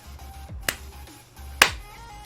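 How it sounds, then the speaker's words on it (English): Two sharp hand claps about a second apart, crisp and close, over a quiet room with low background hum. "I have to do a clap test"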